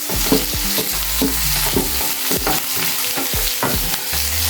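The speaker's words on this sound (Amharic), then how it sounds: "ሁሉንም አንድ ላይ እንጠብሰዋለን ማለት ነው።" Leeks, red onions and vegetables frying together in a pan for chicken cacciatore. Loud, close sizzling carries repeated scraping stir strokes and crackles throughout, with no voices.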